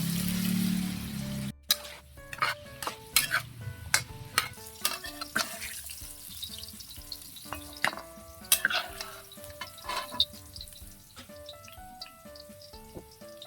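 Carrots and potatoes crackle and sizzle in hot cooking oil in a pan, with sharp irregular pops and clatters of stirring over a steady hiss, close and fairly quiet.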